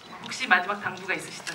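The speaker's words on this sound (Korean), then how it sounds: "워낙에 이게 셔터 소리가 좀 많아가지고" Press photographers' camera shutters fire in several quick clicks at a film press event, overlapping a person speaking in the foreground.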